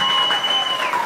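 Audience applause fills a blues concert at a live club show, a dense, steady wash of clapping heard up close for about a second, with a faint voice or whistle tone riding above it.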